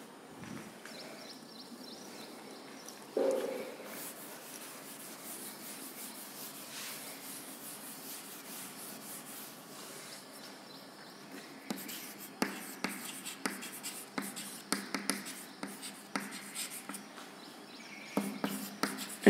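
Someone writes on a board during a biology lecture. Faint scratchy strokes run in short, uneven bursts, growing busier and more rhythmic toward the end, in a quiet room.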